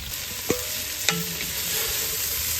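Meat browning in a pan over an open fire sizzles as a steady hiss, broken by two sharp clanks of a utensil against the pan.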